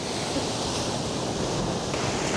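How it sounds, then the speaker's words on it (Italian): Sea waves breaking along the rocky cove-lined coast of eastern Sicily, a steady, full-bodied wash of surf that rolls on without pause, with no voices over it. "Charlie sta meditando con suono di queste bellissime onde"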